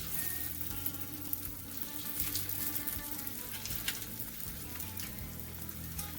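Lentil koftas fry in a hot pan with olive oil and lemon, giving a steady close crackling sizzle with scattered pops throughout and no one speaking.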